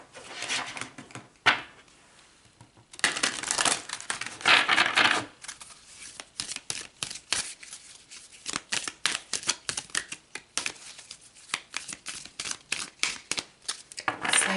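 Oracle cards are shuffled and drawn by hand in a series of quick, dry riffling and flicking bursts, with brief pauses between them and no voices.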